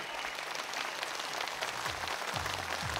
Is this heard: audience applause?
yes